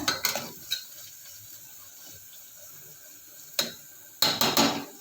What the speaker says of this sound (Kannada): ಗ್ಯಾಸು ಮೀಡಿಯಮ್ ಫ್ಲೇಮಲ್ಲಿ ಇಟ್ಕೊಂಡಿದ್ದೀನಿ, ಚೆನ್ನಾಗಿ ಫ್ರೈ ಆಗಲಿ ಅಂತ